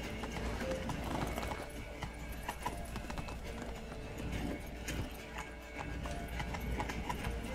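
Horse hooves clip-clop steadily in The Witcher 3: Wild Hunt, a continuous rhythmic trotting under a busy game soundscape with faint mechanical clanks and an occasional whinny, moderately quiet throughout.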